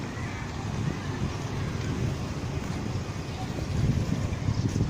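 Outdoor breeze rushes steadily across the microphone as a continuous low buffeting roar that swells slightly near the end.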